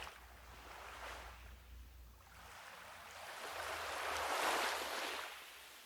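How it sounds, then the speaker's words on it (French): Small ripples lap softly against shells and warm sand, a faint wash that swells and recedes in slow, gentle surges with no voices. "Tu écoutes le rythme des vaguelettes. Le clapotis de l'eau qui ricoche sur les coquillages et souffle sur le sable chaud."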